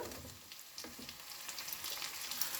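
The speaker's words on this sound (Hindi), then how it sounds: "अब इसमें मैं डाल दूंगी चॉप टमाटो" Chopped tomatoes fry with onion, ginger and garlic masala in a kadai, a soft, steady sizzle close by that grows denser and crackles more brightly as the pan heats, with light stirring and no talk.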